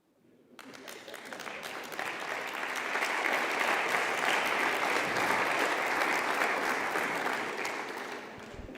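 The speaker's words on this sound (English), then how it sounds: "Ladies and gentlemen, I ask you to applaud Stefan Löfven." An audience applauds Stefan Löfven at a PES Social Summit in Porto, the clapping rising quickly from silence into a dense, sustained ovation that holds steady for several seconds before easing slightly at the end.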